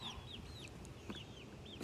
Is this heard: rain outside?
no